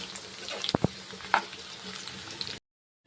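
Pirandai (adamant creeper) fries in oil for a pickle, giving a soft, steady sizzle with a few sharp clatters of stirring, close and fairly quiet before cutting out.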